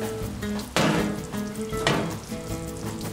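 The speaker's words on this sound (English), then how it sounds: "Meatballs have been simmering for an hour and a half" Meatballs simmering in sauce in a pan, a steady sizzling bubble with two sharp scraping clatters of a pan being slid on the stove.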